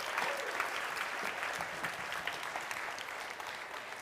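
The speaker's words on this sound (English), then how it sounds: "Give that person a round of applause." Sustained audience applause at a spoken-word poetry event fills the room right after an auction sale, steady dense clapping from a sizable crowd.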